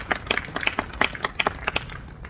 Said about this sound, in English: give the Lord a clap offering tonight